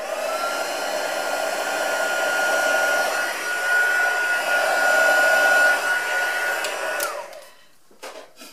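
A heat gun blasting to heat emboss powder on vellum gives a steady, loud whooshing blower roar that cuts off abruptly near the end.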